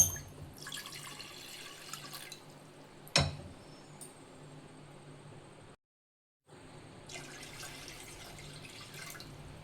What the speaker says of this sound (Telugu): ఇందులో 2 గ్లాసుల వాటర్ పోస్తున్నాను.